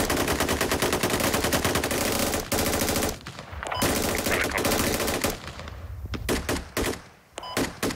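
Machine guns in the game Squad fire dense, rapid automatic bursts, loud and nearly continuous. Brief gaps fall between the volleys, with scattered single shots near the end.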